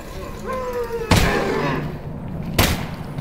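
Gunfire in the Half-Life: Alyx video game: two sharp, loud shots about a second and a half apart, each with a short booming tail, and a brief voice heard just before the first.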